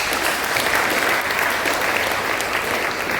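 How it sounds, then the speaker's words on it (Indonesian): Students and guests at a junior high school farewell ceremony in Jayapura clap together, a steady wash of applause from a crowd that holds at an even level throughout with no voices over it. "Kita beri tepuk tangan dulu."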